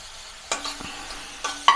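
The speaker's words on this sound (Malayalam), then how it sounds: "ഇഞ്ചി ചെറുതായി അരിഞ്ഞത് പച്ചമുളക് എരിവിന് ആവശ്യത്തിന് വെളുത്തുള്ളി രണ്ടെണ്ണം ചെറുതായി അരിഞ്ഞത് എന്നിവ ചേർത്ത് നമുക്ക് നല്ലപോലെ വഴറ്റാം" Chopped ginger, green chilli and garlic sautéed in a pan for prawn cutlets, a quiet sizzle broken by three distinct spatula scrapes and clacks against the pan, close and clear, no talking.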